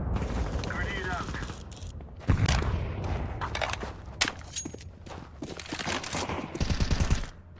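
Counter-Strike video game gunfire crackles in short bursts and single shots amid grenade and mechanical clatter, with talk running over the action.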